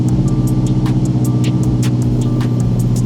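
A Subaru WRX with newly installed headers idles close by, a loud, steady, even rumble with a rapid pulsing beat and no pauses for the whole stretch.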